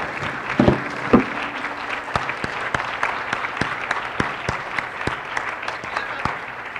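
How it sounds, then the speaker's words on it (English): Steady applause from a crowd at a sports banquet, with scattered sharp claps standing out, continuing evenly throughout without speech. "So give them a big round of applause."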